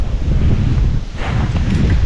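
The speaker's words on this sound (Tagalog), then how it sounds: "Lakas ng hangin, sarap." Steady, heavy wind roars across an outdoor microphone, a constant low buffeting rumble with gusts rising and falling throughout.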